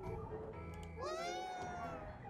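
A cat meows once inside the video game Ghostwire: Tokyo, a rising then gliding cry that stands out over steady game ambience and low background sound.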